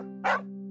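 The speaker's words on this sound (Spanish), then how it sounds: "su perro ladró a la puerta." A single short dog bark rings out at a door, clear and close over a steady background hum.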